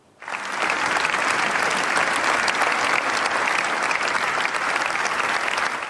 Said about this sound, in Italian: Un lungo e fragoroso applauso ha accompagnato l'ingresso della bara